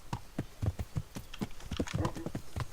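Hooves of a horse in Kingdom Come: Deliverance clip-clop in a quick, steady rhythm, close and fairly loud with no talk over them.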